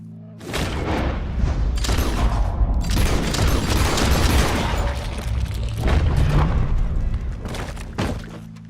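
Gunfire and heavy booming shots in Red Dead Redemption 2, fired at a legendary lion, erupt as a dense, loud barrage that runs almost without pause through the whole stretch, with sharp blasts standing out over rumbling game sound.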